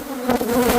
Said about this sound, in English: they got so many bees clogging it up here